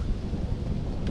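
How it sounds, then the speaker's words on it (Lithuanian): Wind blows outdoors beside a lake during a fishing trip, a low, steady rumble and buffet against the microphone, close and continuous with no talk. "čia vėjas šiandien, tik keitėsi"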